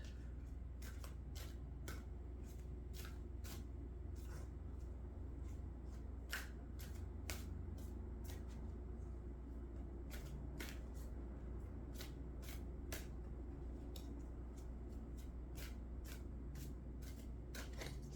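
Tarot cards riffle and snap in repeated quick bursts, close and crisp, over a steady low hum with no talking.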